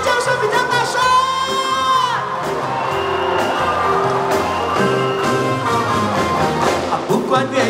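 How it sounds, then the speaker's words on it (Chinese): A concert crowd screams and cheers loudly and continuously, high shrieks and whoops layered over music, with a voice calling out amid the roar. "让我听一下，哪一边的尖叫声比较大声？"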